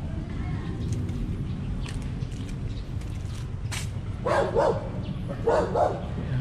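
A dog barks a few times in the middle distance beside an urban estuary lined with new metal fencing, short yips in two bursts over steady background rumble and a voice talking.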